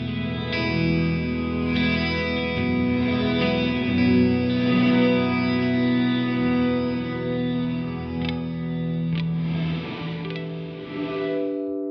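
An Eventide Blackhole reverb pedal smears a guitar into a vast, washing, distorted ambient swell, tones blooming and sustaining continuously with shimmering echoes and a few sharp picked accents near the end.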